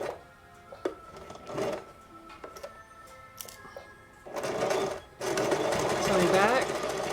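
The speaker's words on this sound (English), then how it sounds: "Sewing back, sewing forward. Pulling pins as we sew" A sewing machine runs in short bursts, stopping and starting as the stitching alternates forward and back, with a rapid mechanical whir that grows louder and longer toward the end, mixed with handling clicks and a person talking.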